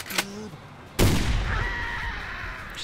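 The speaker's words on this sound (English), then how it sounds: "Oh, it is a shotgun, so it's burst, isn't it?" A shotgun blast in the video game Manual Samuel, one sharp loud report followed by a lingering rumbling tail, with brief bird-like chirps and faint talk before it.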